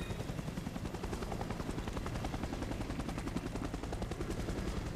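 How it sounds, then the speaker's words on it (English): A loud helicopter's rotor in the video game Resident Evil: Operation Raccoon City thumps rapidly and continuously, with a rattling, gunfire-like chop throughout. "that chopper is really loud"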